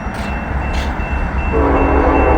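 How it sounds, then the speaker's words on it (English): A freight train rolls toward a level crossing on a sunny line, a loud low rumble with a horn tone that swells and grows stronger midway, close and continuous without talking. "We got a train coming up on this line, and we just caught a train on Vaughn"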